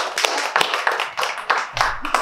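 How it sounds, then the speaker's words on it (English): Audience applause at a university lecture, uneven bursts of clapping from a modest group, fairly close and loud with irregular rhythm and a few sharper individual claps. "Applause for you."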